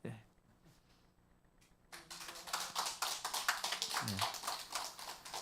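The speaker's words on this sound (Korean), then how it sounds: "우리 함께 박수 치겠습니다" A church congregation at a revival meeting in Jeju claps together, a dense run of hand claps that starts abruptly and carries on steadily, with faint talk before it begins.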